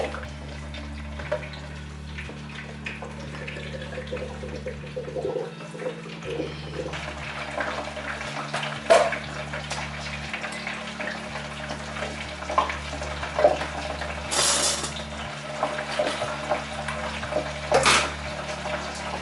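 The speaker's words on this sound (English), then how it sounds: "Fill your water up jug." A kitchen tap runs steadily as a water jug is filled, a continuous rushing splash lasting throughout, with a few clunks and knocks from handling nearby and a low hum beneath.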